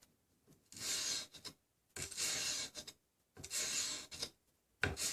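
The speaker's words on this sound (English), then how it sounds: "I tilt the back of my sanding stick up, I sand into the plunge, up and out." A hand sanding stick worked into the plunge of a knife blade, giving three long rasping strokes with short pauses between them and the start of a fourth, close and alone.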